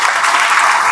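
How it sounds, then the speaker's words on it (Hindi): Loud, dense audience applause in a lecture hall, a continuous wash of many hands clapping together for a full second. "एक बार जोरदार ताली बजाइए दोनों के लिए।"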